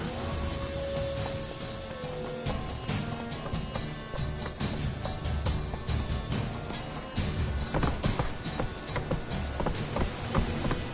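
Galloping hooves of the horse Roach in the video game Witcher 3, a steady rhythmic clip-clop running under music and ambient game sound, with no pause for the whole stretch.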